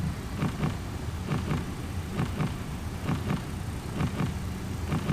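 MD-11F jet engines in X-Plane 12 add power for takeoff: a steady rumbling roar with rhythmic low pulsing whooshes, continuous and fairly close, with no talk over it.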